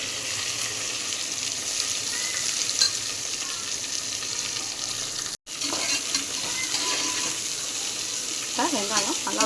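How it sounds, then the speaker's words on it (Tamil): Chopped onions sautéing in hot oil for mutton biryani, a steady loud sizzle with occasional stirring scrapes, cut by a brief pause midway. "வெங்காயம் நல்லா வதங்கட்டும்."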